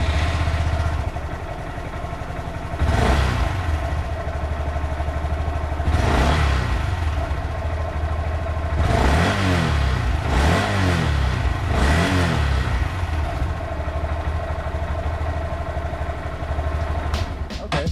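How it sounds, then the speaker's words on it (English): A 2018 Honda Grom motorcycle with its stock exhaust idles steadily up close, with about five sharp throttle blips that rise and fall between about 3 and 12 seconds. "one last sound clip of what a 2018 Honda Grom sounds like with a stock exhaust"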